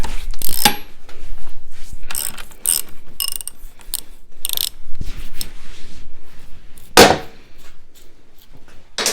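A bolt is worked loose on a KTM LC4 motorcycle, with close, sharp ratcheting clicks in short irregular bursts and metallic tool clatter between them.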